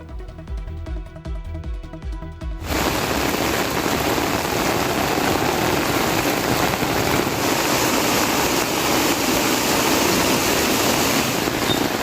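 Heavy pouring rain drums down outdoors where boys are playing football, a dense loud roar that starts abruptly after a brief stretch of other sound and continues steadily to the end.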